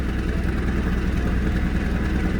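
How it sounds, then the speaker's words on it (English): A Dodge D150 pickup truck idles with a leaky exhaust, a steady, loud, low rumble with no break. "Sounds more exhaust leaky back here."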